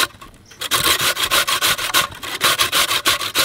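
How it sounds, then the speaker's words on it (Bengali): A boiled potato is rubbed against a grater for a paratha filling, giving rhythmic, evenly spaced rasping strokes, loud and close, about a dozen passes after a short quiet start. "আলুটা আমি পিস করব না, ঘষে নেব।"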